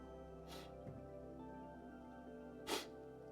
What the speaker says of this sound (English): Excuse my sniffing there.